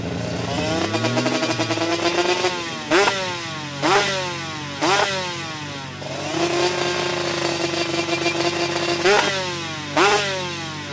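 An Aprilia RS 250 two-stroke V-twin motorcycle engine revs repeatedly, buzzing up and dropping back, with sharp crackles between blips, loud and nearby.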